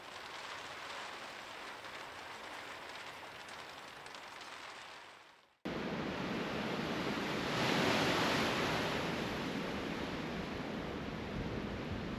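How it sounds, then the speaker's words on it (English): Strong wind roaring across exposed mountain tops in the Kaweka Range, New Zealand, a broad steady rushing noise that cuts out briefly then returns louder and swelling, with no voices. "our wind's back. It's all right down here, but you can just hear it sort of ripping across the tops."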